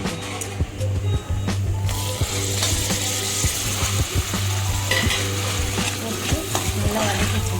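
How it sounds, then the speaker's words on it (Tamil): Carrot and potato sautéing with mint and coriander for pulao, with steady sizzling and frequent utensil scrapes and clicks against the pan, continuous and close. "நல்லா வதக்கிக்கோங்க."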